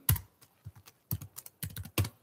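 Typing on a computer keyboard in short bursts of quick key clicks separated by brief pauses, close and fairly quiet, with no talking.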